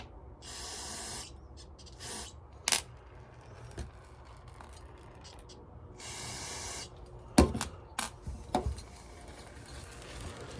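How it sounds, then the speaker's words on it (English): Short bursts of aerosol cleaner hiss onto small carburetor parts from a Poulan 3400 chainsaw, several separate sprays spaced apart, with a few sharp clicks and light clatter of tiny components in between. "Spray off all the little tiny components."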